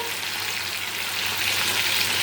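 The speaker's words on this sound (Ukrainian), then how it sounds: "воно швидко смажиться." Steady, close sizzling and crackling of onion frying in a hot pan, a continuous hiss that grows slightly louder toward the end.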